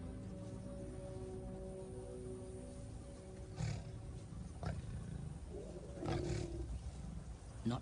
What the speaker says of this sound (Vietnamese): Có một tiếng gầm vang vọng đâu đó.